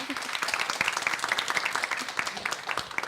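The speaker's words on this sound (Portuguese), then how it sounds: "Salva de palmas para Tabata Amaral" An audience gives a round of applause for Tabata Amaral, dense overlapping claps at close range with a lively, uneven rhythm that carries on for a few seconds.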